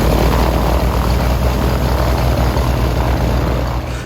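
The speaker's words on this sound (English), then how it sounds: "his magnificent 1977 Cessna Skymaster. It's actually a Cessna 337, and it's blessed with two Continental engines" A 1977 Cessna 337 Skymaster with twin Continental engines at an air park in Biscarrosse, southwest France, giving a loud, steady, close propeller and engine roar that holds throughout.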